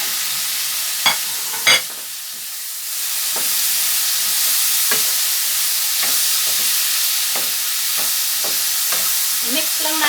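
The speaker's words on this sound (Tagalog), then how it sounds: "Mix lang natin ang kamatis natin guys hanggang magiging paste siya" Chopped tomatoes frying in a hot pan for native chicken, a loud continuous sizzle with occasional spatula scrapes and taps as they are stirred down into a paste.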